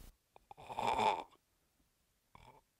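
A person imitates a dog snoring: a single soft, nasal snore-like rasp, followed by a brief pause and a faint short snort.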